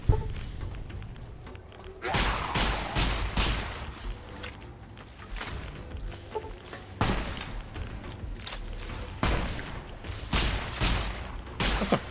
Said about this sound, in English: That's a freaking anti-materiel rifle.